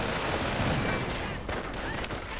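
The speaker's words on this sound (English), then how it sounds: "Mortar rounds keep flying in." Mortar rounds exploding in Company of Heroes 2, a dense continuous rumble of battlefield gunfire and blasts with no clear pauses.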